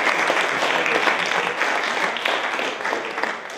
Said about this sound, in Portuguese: Uma salva de palmas pro Cota.